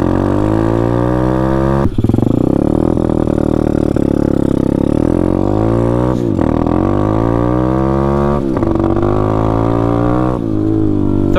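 A Taotao DB17 125 pit bike engine revs hard while riding, a loud close buzzing drone that climbs in pitch, drops sharply at gear changes and climbs again, with no talking.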